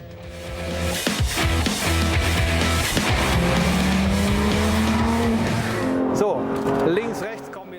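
A Porsche GT3 RS with a PDK dual-clutch gearbox drives hard on a track, its engine revving loudly through quick gear changes as the tyres squeal, with a voice talking over it.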